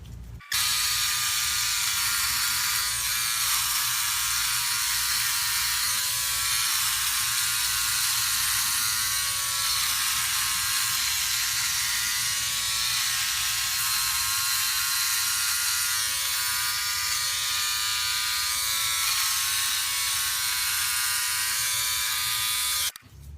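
A Philips OneBlade electric shaver trims a beard with a constant, close, loud electric buzz that runs unbroken for over twenty seconds, its pitch wavering slightly as it moves across the face, with no talking.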